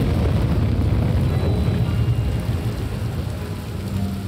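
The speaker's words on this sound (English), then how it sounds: "I mean, this is nice rain" Heavy rain in Star Wars Jedi: Fallen Order, a dense, loud, even hiss and patter with a low rumbling undertone, continuing without talk.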